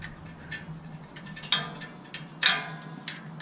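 Screws being tightened in a crisscross pattern on a Can-Am X3 during an oil change, heard as a few sharp ratcheting clicks spaced about a second apart over a low steady hum, close up and without speech.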